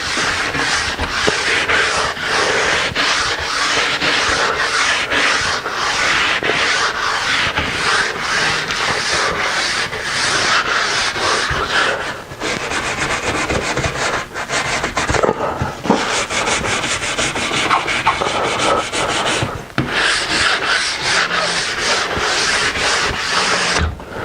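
Nylon brush with steel bristles scrubbing along the grain of a freshly waxed ski base, a steady, dense rubbing and scraping of close strokes that runs continuously and loudly for the whole stretch, with no talking.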